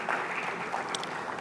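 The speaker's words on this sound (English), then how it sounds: "Let's appreciate Madame Ron Osman one more time with a clap." Applause from a meeting audience, a steady, fairly quiet wash of clapping that holds evenly throughout.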